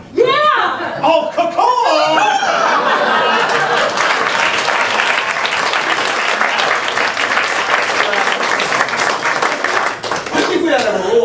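A theater audience at a fundraiser matinee show bursts into loud, sustained applause mixed with laughter and chuckles, after a moment of speech at the start.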